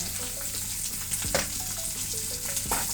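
Sliced onion sautéing with salt in a hot pan, a continuous sizzle and fry with a couple of sharper stirring scrapes and faint tonal beeps in the background.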